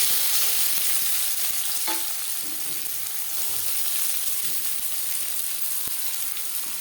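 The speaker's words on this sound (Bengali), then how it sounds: "কড়াইতে আবারও তেল দিয়েছি দিয়ে দেবো পেঁয়াজ কুচি" Chopped onion fries in oil with a loud, continuous hiss, broken by a few scraping stirs of a spoon against the pan.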